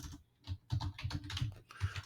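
Fingers type a web address on a computer keyboard, a quick, close run of light clicking keystrokes with brief pauses, quiet and without talk.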